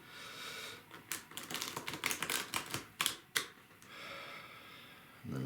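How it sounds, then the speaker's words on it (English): Tarot cards riffle shuffled by hand, a quick series of crisp flapping clicks building into bursts over a few seconds, close and fairly quiet, then trailing off into soft rustling. "I hold it for the length of the time that I'm riffling the cards"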